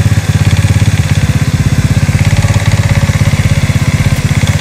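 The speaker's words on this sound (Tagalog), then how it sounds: "Pero mas maganda to kung painitin nyo muna yung makina nyo." A Honda XRM/Wave-type motorcycle engine idles while warming up before carburetor tuning, its close, loud, steady chugging beat pulsing evenly and unbroken with no voices.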